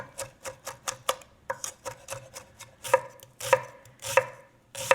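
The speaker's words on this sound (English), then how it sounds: "Cut up the tomato finely." A knife finely chopping tomato on a cutting board, a run of crisp, close, regular knocks with small irregular pauses, no voices.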